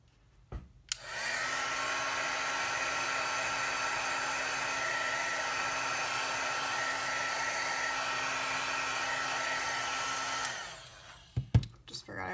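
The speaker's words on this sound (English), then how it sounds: "So I'm gonna take my heat gun again to make sure this all dries." A heat gun blows steadily over colored ink on a paper craft piece to dry it, a loud continuous whirring rush lasting about ten seconds before it clicks off.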